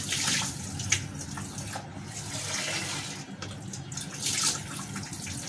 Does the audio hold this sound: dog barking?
no